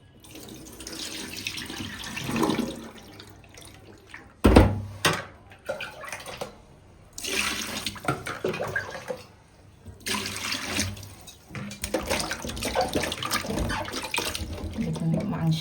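Goat mutton pieces are rinsed under a running kitchen tap, water gushing and splashing in uneven bursts with short pauses between, close and fairly loud, with a voice speaking now and then.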